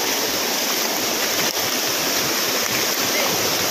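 Water from Kadamagundi waterfall rushes along a stream, a loud, dense, continuous roar of flowing water close by with no breaks.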